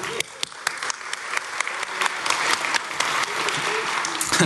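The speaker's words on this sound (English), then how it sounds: "Give a clap for this guy right here." An audience at a DEF CON hacker conference talk breaks into sustained, dense clapping that holds steady and swells slightly toward the end, with no voices over it.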